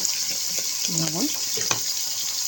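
Okra drops into a hot pan and sizzles with a steady, close, hissing fry, while a brief voice murmurs partway through.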